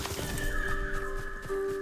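A horse whinnies in a short, shrill, wavering call over a dense background of other sounds, in the video game Ghost of Tsushima, near a hot spring.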